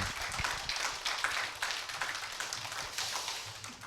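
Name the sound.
audience applause for the lecturer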